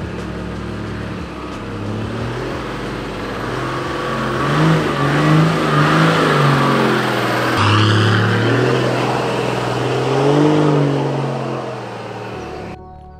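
A 4WD vehicle drives along inland sand tracks on Fraser Island, its engine droning and revving in slow surges that build and ease over about thirteen seconds, steady and fairly close without speech.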